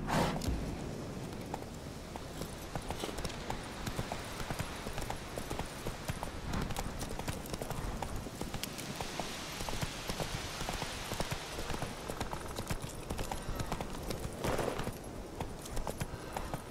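Roach the horse in The Witcher 3 clip-clops at a steady walking pace, hoofbeats close and continuous over light rain-like ambience and game background sound.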